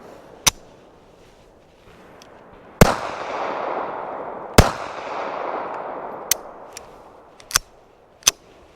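A brand-new Beretta 30X Tomcat handgun fired outdoors, a handful of sharp, loud cracks spaced irregularly over several seconds, two of them trailing long echoing decays, with no talking.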